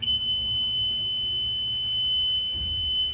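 A continuous high-pitched electronic warning tone from a boat console sounds steadily throughout, close and clear, with a low background hum.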